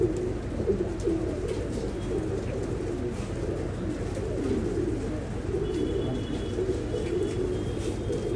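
Pigeons coo in a loft in Shivaji Nagar, Bangalore, with soft overlapping calls over a constant dense background murmur.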